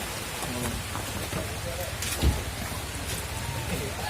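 Steady rain falls continuously as a dense, even hiss, with a faint voice talking underneath and one brief thump partway through.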